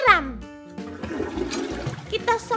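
A toilet flush rushes loudly through a small home bathroom after the bowl has been scrubbed clean, with water swirling and draining while a voice and tonal sounds rise over it.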